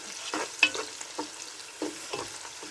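Onions fry in a pan while a spoon stirs them, giving a run of scraping strokes over a steady, close sizzle, with no talking.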